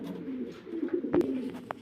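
An Andalusian pigeon coos softly in low, rolling murmurs, with a couple of brief clicks and flutters nearby.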